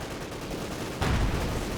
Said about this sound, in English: Panzer IV turns around, taking some shots at those conscripts